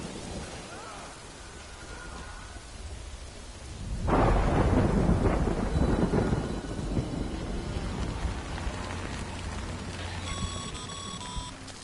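Thunder and rain from the video game Death Stranding: soft steady rainfall, then a sudden heavy thunder crash that rolls on loudly for several seconds while the downpour continues, with a brief electronic tone near the end.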